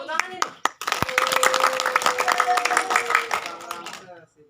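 Hands clapping in applause in a group setting, a burst of claps running for several seconds under excited voices talking and cheering nearby.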